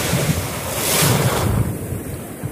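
Ocean waves surge and wash onto a shore, a steady broad roar swelling midway, with gusting wind buffeting the microphone throughout.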